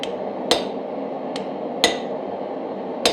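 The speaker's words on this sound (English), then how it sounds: "And we want to chisel these out." A hammer striking a chisel on hot forged steel while making a Rubik's twist wand: four sharp, ringing metallic blows at uneven intervals over a constant low roar in the background, no speech.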